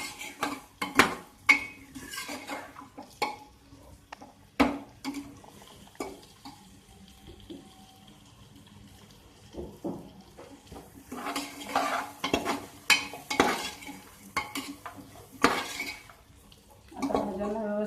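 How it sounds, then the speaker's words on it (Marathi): A spoon clatters against a pan while vegetables are stirred with goda masala for masala rice, sharp metallic knocks and scrapes coming in irregular bursts, close by, with quiet gaps between them. "आता हे व्यवस्थित मिक्स करून घ्यायचं आहे जेणेकरून भाज्यांना व्यवस्थित मसाला लागला पाहिजे"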